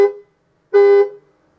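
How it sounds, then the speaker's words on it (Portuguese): Two honks from a Ford Maverick pickup truck horn, a short toot followed by a longer blast about half a second later, loud and close. "É a buzina."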